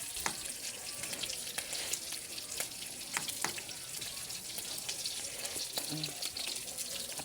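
A pot of fish soup with cabbage bubbles and sizzles steadily at a low level, with faint clinks and soft pops scattered throughout.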